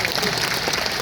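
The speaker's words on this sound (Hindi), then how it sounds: "एक बार आपके लिए भी तालियां हो जाए" A large crowd at the Parbhani international Dhamma conference breaks into brief, dense applause, a loud burst of clapping lasting about a second.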